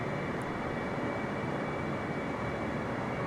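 A Boeing 747-8 jet in Microsoft Flight Simulator 2020 cruises above San Francisco, a steady, dense engine roar holding without a break at even loudness for the whole stretch.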